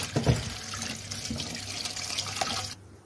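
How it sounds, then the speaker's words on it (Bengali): Bottle gourd leaves and a tomato washed under a running kitchen tap, a steady close splashing stream with shifting water noise that stops abruptly near the end. "লাই পাতা আর টমেটোটা আমি এখন ভালো করে ধুয়ে নেব।"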